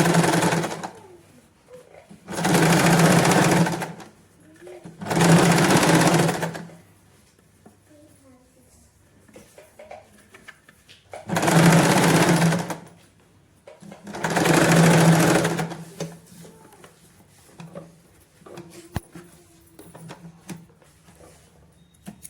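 A sewing machine stitches palazzo lining in four loud, even bursts of rapid whirring, each a second or two long, with quiet pauses between them.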